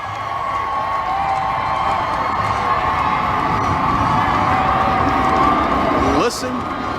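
A large outdoor crowd in Arizona cheers and shouts to welcome an arriving airplane, a sustained roar of voices heard from a distance with someone talking over it.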